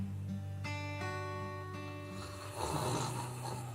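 Heavy snoring from a sleeping snoring patient who also has pauses in breathing, with a steady, loud, rumbling drone throughout and a rougher, harsher snore surging near the end.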